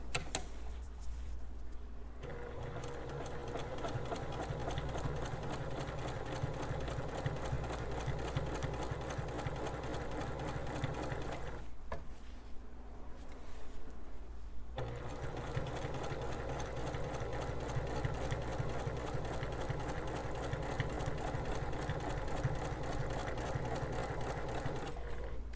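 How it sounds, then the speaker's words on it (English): Sewing machine stitching quilt-as-you-go placemat strips, a fast even mechanical chatter running for long stretches with a brief pause partway, close and moderately quiet. "We're going to want to sew our quarter of an inch along this side before we do any trimming."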